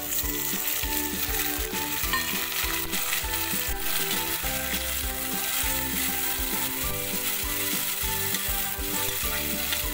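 Tomatoes and well-browned onion fry in a pan, a steady close sizzle with repeated clicking, scraping stirs, heard alone without talk.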